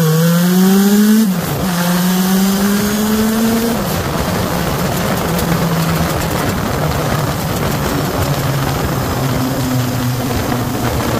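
A Honda CB750 Turbo motorcycle launching in second gear, its engine note rising steeply, dipping at the clutch, then climbing again into a loud, sustained roar close by.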